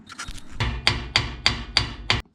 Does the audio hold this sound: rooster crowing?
no